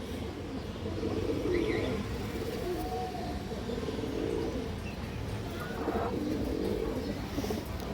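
Fancy pigeons in a Bangladeshi pigeon market setting give soft, repeated cooing over a low background murmur, fairly close and at moderate volume, with faint voices in the background.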